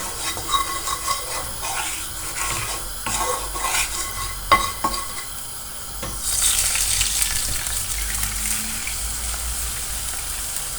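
Milk simmering in a pan is stirred with a utensil, producing close scraping and clinking against the metal over a soft bubbling sizzle that grows brighter and steadier toward the end.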